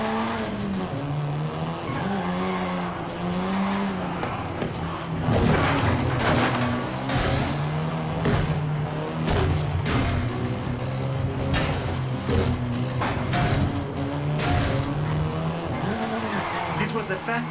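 A Volkswagen Golf R in Forza Horizon 5 revs hard and skids, its engine note rising and falling through gear changes while repeated tire squeals and scrapes cut in, all fairly loud, with a voice talking over the driving.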